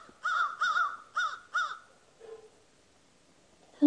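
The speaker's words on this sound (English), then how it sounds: "Those crows are loud." Four loud crow caws in a steady rhythm near a horse farm, fairly close, followed by a softer call and quiet stillness.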